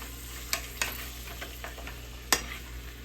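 A spoon stirring olives and raisins into a beef stew in a pot: a few soft scrapes and clicks over a faint steady sizzle, quiet and close.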